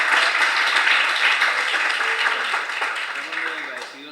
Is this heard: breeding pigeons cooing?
no